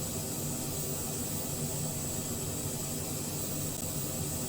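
A BD-5J microjet in Microsoft Flight Simulator 2020 gives a steady, even jet-engine whine and hiss, a continuous moderate drone with no change in pitch or volume.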